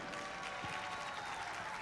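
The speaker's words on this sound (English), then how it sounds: "Can you guys give them a huge round of applause for supporting you?" A crowd at a robotics district event's opening ceremony in Albany gives a round of applause for the sponsors, a steady even wash of clapping filling the short stretch.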